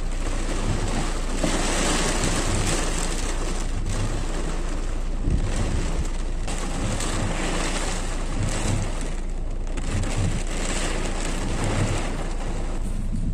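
Wind-driven rain blowing sideways and hitting a car windshield, a steady dense broadband wash with gusty swells, loud and close throughout, with no talking.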